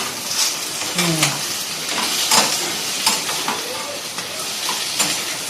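Chili chicken in soy sauce and water being stirred in a pan, with scraping strokes and a bubbling sizzle, close and fairly loud, and a voice briefly speaking over it.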